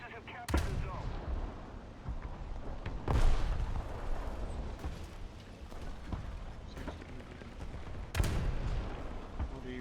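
Gunfire in a video game battle booms and cracks in scattered heavy blasts, some loud and close, others distant, over a rumbling background with occasional voices.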